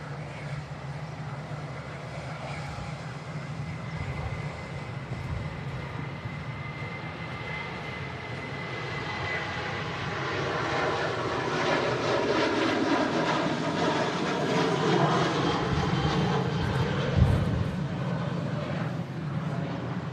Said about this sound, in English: we've got an aircraft rolling on the runway anyway